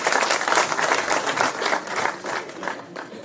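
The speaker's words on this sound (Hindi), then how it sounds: "एक बार जोरदार ताली के साथ आइए" A crowd claps at an outdoor political rally, a dense patter of applause that is fairly loud and steady, then fades slightly over a few seconds.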